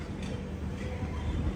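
An express train bound for Puri pulls in at platform 2 of a station, a steady low rumble of rolling wheels and carriages close by, continuous and fairly loud with no clear rhythm of individual clacks.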